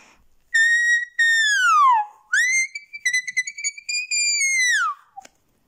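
Very high-pitched leafophone tones made by blowing across thin plastic, with long sliding whistle-like notes that bend down in pitch and a burst of quick short chirps between them, loud and close with no voice.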